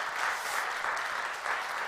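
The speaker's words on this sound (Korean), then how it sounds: "박수 한번 할까요?" A church congregation at a Sunday service applauds together, a steady dense clapping that holds at an even level from start to finish.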